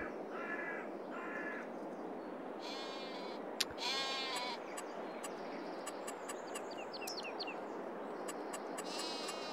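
Sheep in the Farming Simulator 22 video game bleat in short repeated calls over a soft steady outdoor ambience, mixed with several crow caws and a single sharp click, with no speech.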